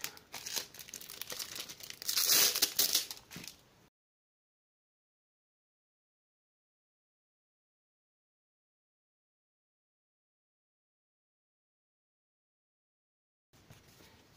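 Double-sided tape is pulled and peeled during paper crafting on a mini album, giving close crinkling and tearing for about four seconds, then long silence and a faint rustle at the very end.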